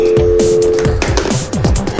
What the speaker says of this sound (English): remember to wait for a dial tone.